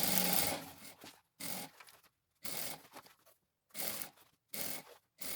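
A sewing machine stitches an EVA foam strip in four or five separate bursts of rapid, whirring needle action, each lasting about a second and followed by brief silence, quiet and close.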